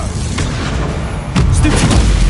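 Confringo, a fire blast spell in Hogwarts Legacy, lands as a loud, dense roaring blast with a heavier booming surge midway. The combat din continues throughout without a break.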